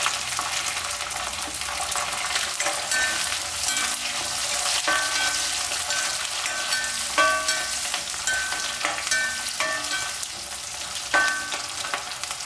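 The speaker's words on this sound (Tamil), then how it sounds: "வெங்காயம் போட்டுக்கலாம்." Onions with garlic frying in a pan for prawn masala, a dense continuous sizzle with intermittent metallic stirring clinks, close and loud, no talking.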